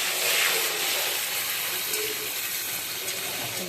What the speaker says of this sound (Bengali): আলু পটলটাকে একটু ভাজতে হবে